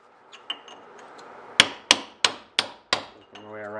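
A hammer whacking a Jeep Grand Cherokee wheel bearing assembly: a couple of light taps, then five loud sharp metallic strikes in an even rhythm, close up, ending in a ringing tone.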